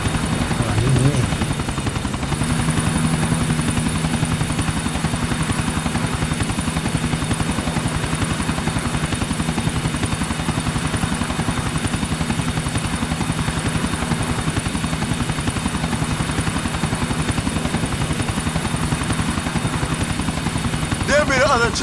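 A helicopter in Grand Theft Auto IV drones with a steady rotor thump and engine whine throughout, loud and continuous, while a voice speaks at moments over it.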